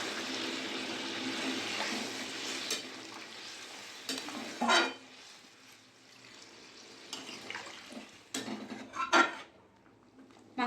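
Hot water poured into chicken cooking in a pot for a Bengali chicken and potato jhol, giving a broad hiss and splash with a few clanks of a utensil against the pot.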